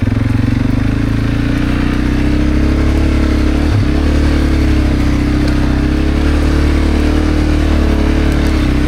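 A Segway AT5 500 quad bike engine drones steadily and loudly while driving through a muddy rice field, a constant close engine hum with one brief clunk midway, no speech.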